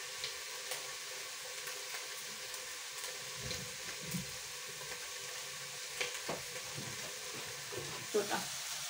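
Oil sizzles in a frying pan, a soft continuous hiss with a few faint stirring clicks and scrapes, fairly quiet and steady throughout.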